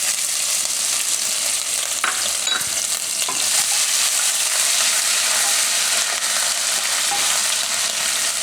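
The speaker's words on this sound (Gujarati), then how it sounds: "હવે આમાં આદુ મરચાં નાખી દેવું." Ginger and chilies hit hot frying oil for banana kofta, giving a loud, steady sizzle and crackle throughout with faint stirring scrapes and no talk.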